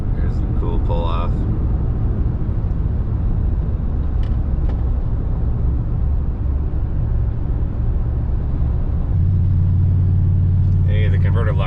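A car engine-braking while cruising down a Rocky Mountain road, producing a steady low rumbling drone throughout with road noise, loud and continuous, as a person talks over it briefly.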